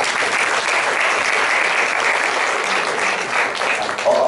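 Steady, dense clapping from an audience at a Thai classical music performance, continuing evenly throughout with no other voices.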